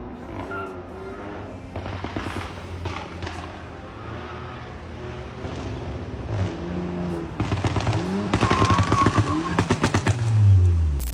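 Volkswagen Jetta GLI, 2.0 turbo with 230 hp and Stage 3 tune, revving with rapid crackling exhaust pops like gunfire, bursts growing denser and louder toward the end over a droning engine.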